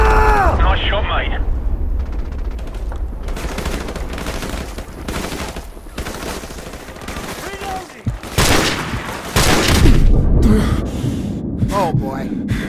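Bursts of rapid gunfire and booming explosions fill a Call of Duty Modern Warfare Remastered battle, near and loud, repeating in volleys throughout while players talk over the combat.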